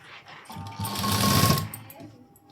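A sewing machine runs in a short burst of stitching on blouse fabric, swelling and fading within about a second, with a voice speaking around it.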